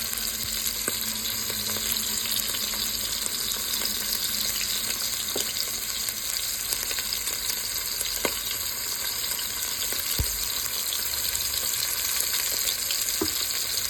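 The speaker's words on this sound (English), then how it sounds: "we're going to sear these until they're like have a crust on each side" Birria-seasoned meat searing in a pan, a steady loud sizzle and frying crackle throughout with occasional small pops and stirring clinks, no talking.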